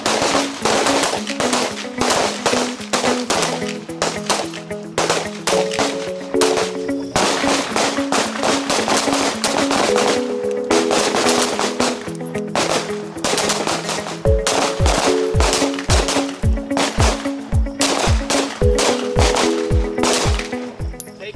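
Rapid handgun shots ring out during a combative pistol shooting drill, loud sharp reports in fast strings and bursts that echo, with several shooters firing and a brief pause midway.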